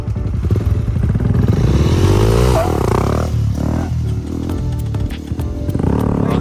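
An off-road dirt bike, apparently a Honda CRF, revs loudly and continuously up close, its engine note rising and falling throughout with some clatter.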